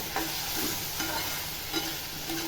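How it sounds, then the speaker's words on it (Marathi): Bitter gourd and chana dal sautéed with tomato in a pan, a continuous close frying hiss with soft periodic scrapes of stirring. "कारलं बघा टॅमॅटोमध्ये चांगलं परतलं आहे आता ही चणा डाळ टाकते"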